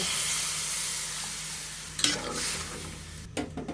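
Vegetables sizzle steadily in a hot pan after frying with turmeric and coriander powder, and water goes in partway through, bringing a sharp burst of louder hissing and spattering that settles, then flares again briefly near the end.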